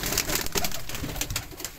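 Neel dumba pigeons, a breed kept for pigeon-flying games, coo in a close, continuous chorus of soft throaty calls with no talking.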